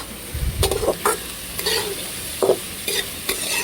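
Onions sauté in a hot pan, with a steady sizzle broken by repeated scraping and knocking strokes of a stirring spoon, close and without talk.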